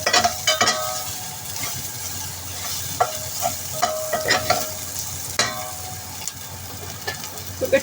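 Carrot and grated garlic stir-frying in a hot pan, with a steady sizzle broken by repeated scraping strokes of a utensil at an uneven rhythm, close and fairly loud with no talking.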